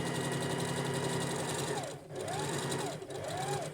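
A sewing machine back stitches the closing seam of a Karmalek doll with a steady, close, rapid whir, its pitch dipping briefly twice as the stitching reverses direction.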